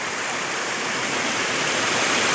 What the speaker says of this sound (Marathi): ह्या खडकावरून कसा हा धबधबा पडतोय